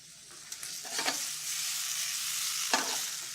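Onions sauté in a pan, a steady broadband sizzle with a few soft stirring scrapes and clicks, close and moderately loud with no voices.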